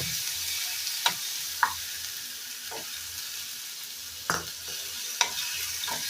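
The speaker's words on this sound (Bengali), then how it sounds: "টমেটোটা দিয়ে দেবো দিয়ে মশলাটাকে ভালো করে কষিয়ে নেব" Spice paste with chopped tomato frying in a pan: a steady sizzling hiss runs throughout, broken by a few sharp scraping strokes of stirring spaced a second or more apart.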